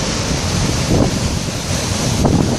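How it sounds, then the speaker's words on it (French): Ocean swell breaking along the coastal shoreline at Le Port, Réunion, a continuous roar of surf with wind buffeting the microphone and two fuller wave surges rising within a few seconds, with no one speaking. "la houle monte assez haut"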